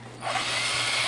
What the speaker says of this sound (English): Or a bigger drill.